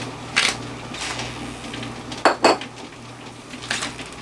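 Metal canning lids lifted out of boiling water with a magnet, giving several light metallic clinks and taps, including a sharp double clink midway, over a low steady background hum.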